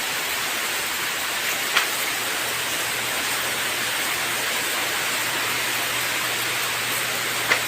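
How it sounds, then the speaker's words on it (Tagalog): Heavy rain pouring steadily in Taisan, a dense, even hiss of falling water filling the whole clip, with a couple of faint brief knocks and no talk. "Ang lakas ng ulan dito."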